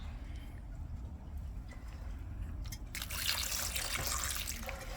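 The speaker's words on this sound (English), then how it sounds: "gonna pour some water on it." Water pours and splashes over tumbled agate rocks, starting as a faint trickle and then gushing louder and hissier for the last couple of seconds.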